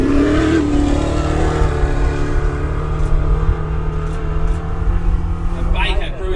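An off-road enduro race car at the Waikerie Riverland Enduro in 2024 roars loudly and steadily, crossing the Sutton Ford whoops, with a commentator talking over the engine noise.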